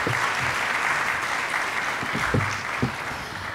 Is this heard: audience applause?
yes